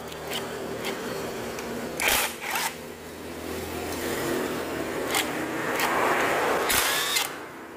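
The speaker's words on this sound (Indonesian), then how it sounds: "Sambil kita bukai semua baut crankcase-nya ya lur ya." Crankcase bolts are backed out of a carbureted Yamaha Mio engine with a power tool, producing a continuous whirring buzz broken by several sharp bursts and clicks, close with no speech.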